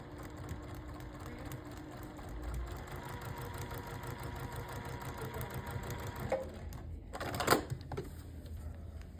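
A sewing machine stitches fabric pieces along a seam line with a steady, rapid mechanical whir and clatter, close and moderate in level, followed by a brief sharper rustle near the end.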